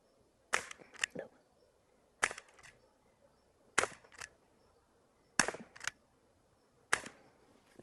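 A Dan Wesson 6-inch CO2 BB revolver fires at a target 5 yards away: sharp, snappy cracks come in spaced pairs and small clusters, each with a faint pellet impact, against near silence.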